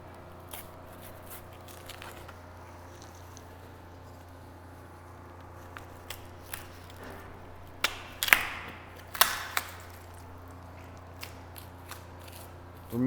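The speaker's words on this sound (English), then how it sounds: "Continuing to skin this hock down, taking the hold of the bone and cutting through the hide." A knife cutting through the hide of a beef cow's hock while skinning, heard as faint scattered slicing and tearing ticks that grow denser and sharper midway, over a low steady hum.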